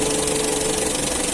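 A K series car engine runs steadily just after starting, a loud, continuous mechanical hum with a faint rhythmic knock and no talking.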